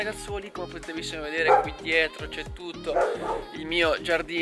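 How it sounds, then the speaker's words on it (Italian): Dogs bark and yip in a home garden, close and intermittent beneath someone talking steadily. "se sentirete i cani abbaiare"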